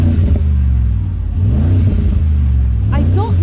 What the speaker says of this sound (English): feel the exhaust roar when we switch to Sport Plus mode